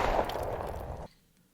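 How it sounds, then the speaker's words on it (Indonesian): A single gunshot from a dramatic film lands as a sharp, loud burst with a short rumbling tail that cuts off abruptly after about a second. "Dan tiba-tiba, Louis harus mati terkena tembakan Hal."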